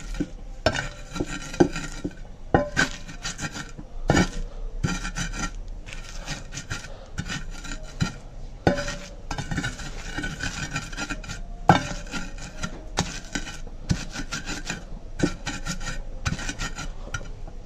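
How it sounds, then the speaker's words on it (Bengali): Boiled potatoes are mashed for aloo bhorta in repeated rhythmic rubbing and squishing strokes, close and steady, over a faint background sizzle. "এখন আলু ভর্তাটা বানাই ফেলাই।"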